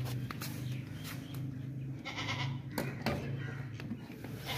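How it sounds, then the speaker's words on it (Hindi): A long-eared, purebred male goat in good condition, offered for Qurbani at a goat sale, bleats over a busy, steady background of market noise and other livestock. "ये देखिए माशाल्लाह से अच्छी कंडीशन वाला और लंबे कानों वाला नस्ली बकरा है"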